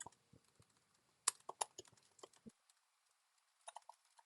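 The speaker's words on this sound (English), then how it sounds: "I'm typing really bad today" Someone types on a computer keyboard while coding, with quick irregular clacks in bursts, a short pause, then a few more keystrokes, close and quiet, with no talk.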